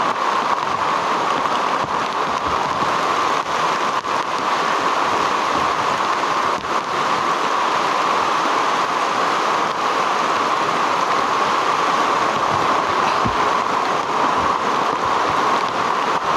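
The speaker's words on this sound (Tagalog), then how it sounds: "Grabe lakas ng ulan mga kaidol." Heavy rain pours steadily on and around a hut, a dense, unbroken hiss that stays loud and even throughout with no voices.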